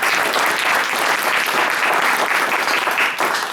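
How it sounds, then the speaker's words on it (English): An audience gives the judges a full round of applause at a 2017 school jazz event, dense and loud, with steady crowd clapping throughout. "Please give them a round of applause for being here today."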